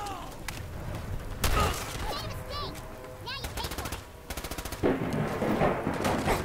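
Gunfire in Fallout 4: bursts of rapid automatic fire alternate with single shots and booms across the stretch, loud and close, with game noise and a voice talking in between.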